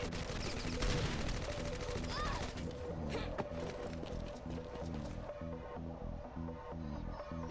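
MP5 ZK submachine gun fire in a video game, rapid bursts of automatic shots repeating steadily and close, loud throughout with a brief sharp crack near the middle.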